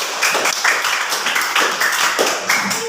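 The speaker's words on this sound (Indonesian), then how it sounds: "Tepuk tangan dulu untuk kelompok 2." Classroom students clapping for a presenting group, a loud, steady wash of many hands that holds throughout with little break.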